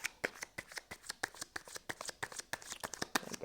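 Tarot cards are shuffled close by in a quick, steady run of riffling snaps, soft and even, with no talking.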